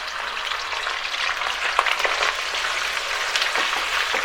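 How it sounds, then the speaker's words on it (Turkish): Beef sizzles steadily in hot oil, a dense crackling hiss with scattered pops, close and continuous with no talking. "Bu şekilde koyduğumuzda eğer kabarcıklar çıkıp sesi duyuyorsak artık etimizi atabiliriz"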